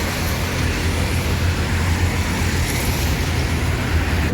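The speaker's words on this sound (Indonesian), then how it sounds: "Udah mulai ramai kendaraan." Steady roar of road traffic with passing vehicles outside a bus ticket office in Palembang around dawn, a continuous dense wash with a low rumble and no pauses.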